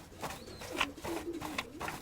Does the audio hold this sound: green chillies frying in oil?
no